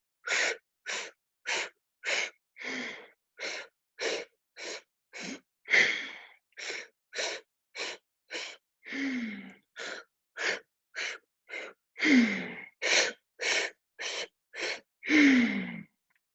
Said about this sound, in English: strong breathing